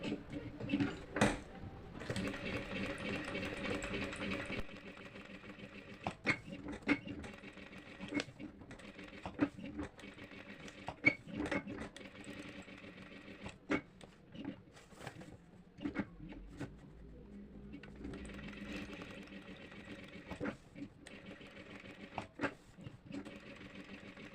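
A tailoring sewing machine stitches on paper in irregular bursts of rapid mechanical clatter, with short runs broken by pauses and sharp clicks of handling, fairly close and moderately quiet.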